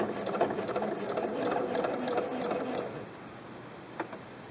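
A home sewing machine stitching a rolled hem with a rolled hem foot on fabric, a steady, moderately quiet mechanical whir of needle strokes that stops partway, followed by a single small click.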